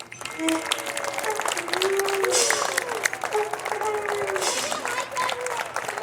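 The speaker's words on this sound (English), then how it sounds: "Let's have a big round of applause for the kids of New York Mills" An audience applauds after a Kalevala puppet pageant performed by children in New York Mills, a steady wash of clapping with scattered cheers and a voice over it.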